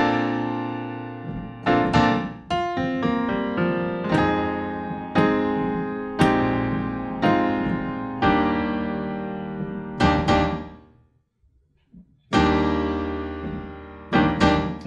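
Piano rendition of a song, played as an easy arrangement: clear, sustained chords struck one after another in a steady rhythm, with one short silent pause before the playing resumes.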